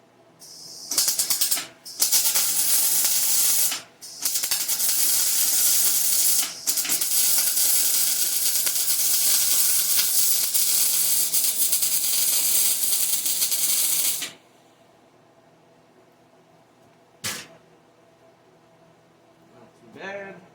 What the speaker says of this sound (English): welding that up